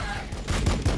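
Cannon fire booms in the video game Warhammer 40K Battlesector, a quick burst of heavy, rumbling shots packed close together over about a second.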